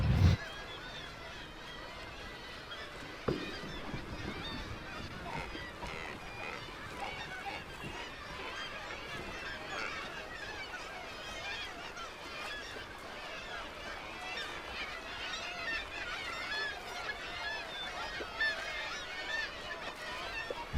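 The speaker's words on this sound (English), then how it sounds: "there's like seagulls all around me, and they're diving into the water and getting fish" Seagulls calling repeatedly while diving for fish far out on open water, over a steady background of wind and water, the cries scattered and moderately distant.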